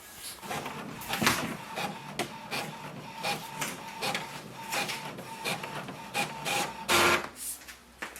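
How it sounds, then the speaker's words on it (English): An HP OfficeJet Pro 8135e inkjet printer prints a page, whirring and clacking with repeated rhythmic carriage passes and feed clunks, close and steady, ending in a louder mechanical burst near the end. "So it has done the printing."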